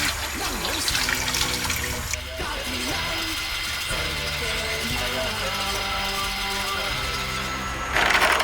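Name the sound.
water added to rice flour slurry to mix it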